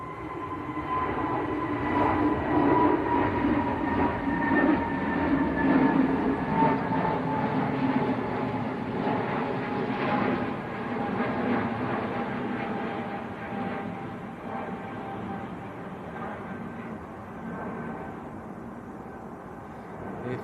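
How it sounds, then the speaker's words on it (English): Scandinavian Airlines Airbus A320neo on its takeoff roll at windy Manchester Airport, bound for Copenhagen, a sustained engine roar with rising whining tones that slowly fades as the jet moves off. "Scandinavian on the roll. This is outbound to Copenhagen."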